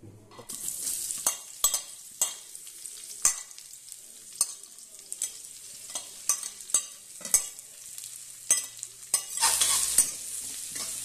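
Chili, onion, garlic and carrot frying in a little oil, with sharp, regular clacks of a spatula against the pan over a light sizzle, close and fairly quiet, no talking.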